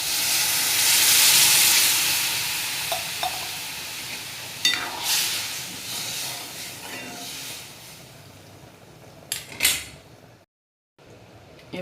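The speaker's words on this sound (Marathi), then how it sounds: "त्यात पाणी टाकून घेऊ आपण." Water poured into a hot pan of lentils and drumstick pods gives a loud, steamy sizzle that fades into a softer bubbling hiss, with a few clinks and a brief quiet gap near the end.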